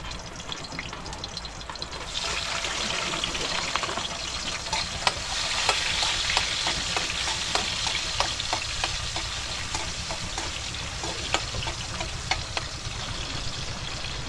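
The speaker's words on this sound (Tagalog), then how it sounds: "Magisa tayo ng sibuyas," Onion and garlic sizzle and fry steadily in a hot pan for an adobo of whole squid, with stirring scrapes layered over the continuous crackle and no talking.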